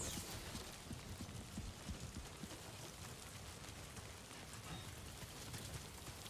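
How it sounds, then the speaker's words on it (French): Rain falls in the video game Death Stranding 2, a faint, steady patter on the ground with soft, scattered drops and no voices. "Putain, il pleut sa mère. Il pleut bien."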